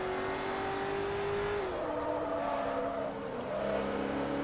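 Race cars, a Maserati overtaking a Porsche in the Forza Motorsport 3 racing game, with a steady engine drone whose pitch drops midway as gears shift, then revs climbing again, continuous and moderately loud.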